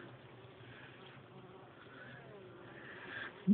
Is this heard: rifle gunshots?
no